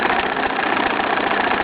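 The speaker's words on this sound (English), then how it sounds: "Seems to be speeding up now, getting a few more revs on it." A Bowman M122 steam wagon runs close by, picking up revs: a continuous heavy mechanical rumble with a fast, even pulsing chug and no voices.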